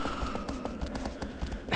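The horse Agro galloping in the video game Shadow of the Colossus, rhythmic hoofbeats drumming steadily and close over a low ambient background, with no talking.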